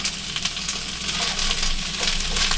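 Squash sautéing in olive oil inside a large Dutch oven, giving a loud, close, continuous sizzle with crackling bursts as pieces settle in the hot pan; nobody speaks.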